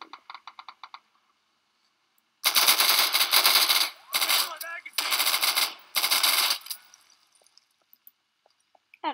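Gunfire in an Insurgency video game firefight, with short sharp bursts early, then several loud sustained automatic bursts in a row separated by brief gaps and a few scattered shots at the end, close and dominant.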